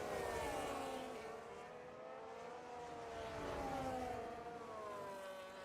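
Race cars in a sim racing video game at the Austrian Grand Prix, several engines whining and shifting pitch together in a continuous, fairly loud drone with no talking.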